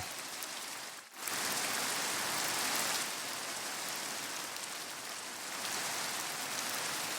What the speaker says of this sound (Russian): тут дождь